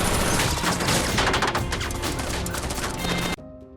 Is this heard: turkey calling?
no